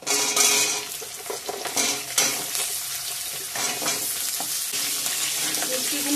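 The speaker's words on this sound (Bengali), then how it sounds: "মিষ্টি কুমড়াগুলো দিয়ে একটু ভালো করে ভেজে নেব" Pumpkin pieces fry in a pan of mixed vegetables, a steady close sizzle with stirring scrapes and occasional clinks of a utensil against the pan.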